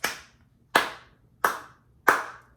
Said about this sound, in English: It had like a pat, clap, pat, clap, pat, clap.